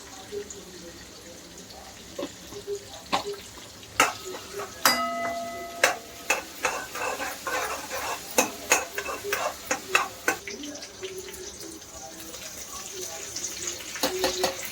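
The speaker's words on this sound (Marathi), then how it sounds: "कडकडीची फोडणी झाली आहे छान" Asafoetida and fenugreek seeds crackle in hot oil as tempering for dal dhokli: sharp, irregular pops and snaps over a quiet background hiss, fairly close and moderately loud.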